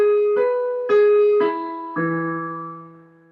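A short run of single piano notes is played in a connected line, one sustained tone after another with a final lower note that rings out and fades, alone and close.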